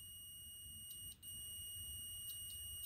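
A multimeter continuity beep sounds while probing the corroded pins of a Super Game Boy cartridge: a quiet, steady high-pitched tone held almost continuously, with one brief dropout partway.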